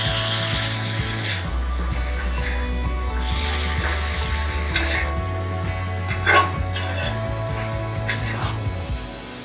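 A utensil stirs and mixes a kochur loti dish in a cooking pot, with steady scraping and light clinks over a continuous low hum.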